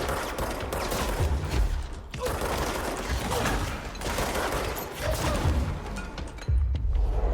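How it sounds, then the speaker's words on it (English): Rapid bursts of gunfire and heavy thuds from the video game Control, a dense, continuous barrage of shots and impacts at close range with no talking over it. "I heard gunshots"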